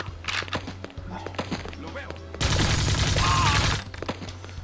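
Gunfire from 007 The World Is Not Enough video game: a dense sustained burst of automatic shots lasting over a second in the middle, with scattered thuds and footsteps before and after.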